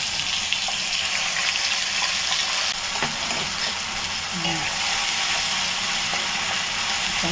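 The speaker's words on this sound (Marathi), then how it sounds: "दोन ते तीन मिनटं छान त्याला परतून घेऊया" Green spinach paste with cumin sautéing in hot oil in a pan: a constant loud sizzle with occasional stirring scrapes, close up and without talk.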